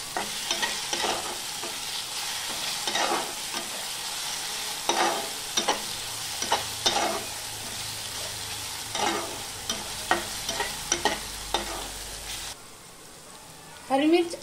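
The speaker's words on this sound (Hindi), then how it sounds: "अब हम इसमें 2 चम्मच पिसी हुई हरी मिर्च डालेंगे और इसे हम 2 मिनट अच्छी तरह से भून लेंगे" Ground green chili fries with light pink onion in a pan, giving a steady sizzle broken by many quick spatula scrapes in bursts. The sizzle drops away near the end before a final clatter.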